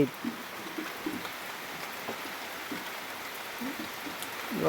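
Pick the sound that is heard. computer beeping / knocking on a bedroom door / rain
rain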